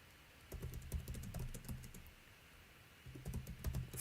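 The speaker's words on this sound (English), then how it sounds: "I am literally physically typing this" Typing on a computer keyboard, with two bursts of rapid, close key clicks separated by a quieter pause and no talk.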